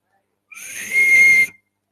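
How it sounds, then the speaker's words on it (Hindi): A single shrill whistle blown through a hole in a bottle cap, about a second long, starting breathy and rising into a steady piercing tone before cutting off. "ढक्कन, सीटी बजाओ कभी ढक्कन में?"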